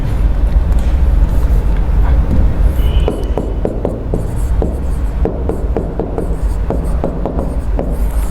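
Marker or chalk writing on a board during a sedimentology lecture, a run of short scratchy strokes in quick uneven rhythm over a steady background hum, close and clear, with no speech.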